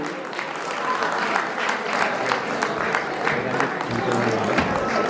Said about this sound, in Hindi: सत्य साई कीर्तन मंडली ने खूब झंडे गाड़े हैं, जोरदार तालियों से स्वागत करेंगे।